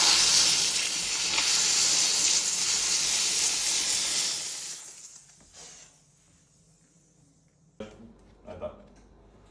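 A steam cleaner hisses loudly and steadily for several seconds while washing an apartment, then cuts off, leaving quiet room tone and a few short knocks and clatters.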